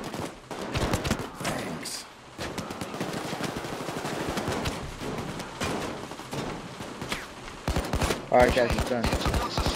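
Rapid automatic gunfire and scattered single shots rattle through a PAYDAY 2 heist in dense bursts that swell louder toward the end, while players talk over the shooting.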